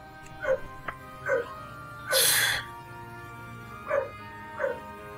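A dog in Final Fantasy XIV barks repeatedly in short, clipped yips with uneven gaps, moderately close, over a quiet ambient bed, with one longer, noisier burst midway.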